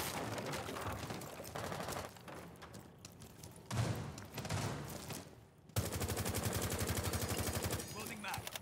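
Rapid bursts of automatic gunfire in a first-person shooter video game, coming in loud stretches broken by brief pauses, with a sustained rattling volley near the end.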